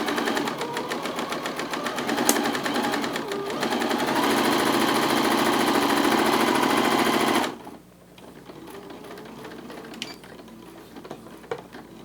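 A sewing machine stitches fabric for a Santa sack, a fast steady mechanical rattle that runs for several seconds, then stops abruptly, leaving quiet room tone with small clicks.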